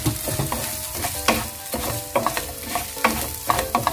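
Rice with coriander powder and spices stirred in a frying pan for prawn polao, a lively sizzle with repeated sharp scrapes of the spoon at an uneven rhythm, close up and alone.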